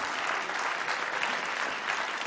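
A cabaret audience claps steadily, dense applause from many hands holding an even level from start to end, with no voices standing out.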